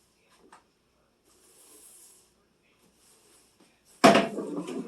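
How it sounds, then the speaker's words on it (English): A household drawer that won't shut all the way gives a few quiet scrapes and slides, then is pushed closed with a sudden loud bang near the end; otherwise the room is near silent. "find out why the drawers not shutting all the way"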